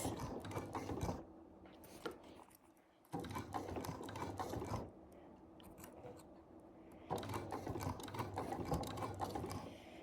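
A sewing machine stitches a quilted mug rug in several close, steady runs of rapid mechanical clatter, broken by short pauses, with no talking.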